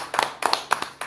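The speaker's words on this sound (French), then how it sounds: "Voilà, on applaudit pour lui." A small group claps briefly during a church talk about marriage, giving a few loose rounds of sharp, scattered hand claps close by, with short gaps between bursts.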